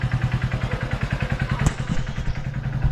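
A motorcycle engine chugs close by in a fast, even idle-like pulse, with a sharp clatter midway as it pulls away, and no voices over it.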